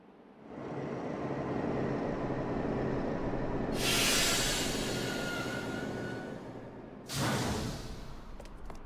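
A train in Final Fantasy Type-0 HD gives a continuous rushing rumble that rises after a quiet start. Two bright bursts of hiss swell in, one midway and one near the end.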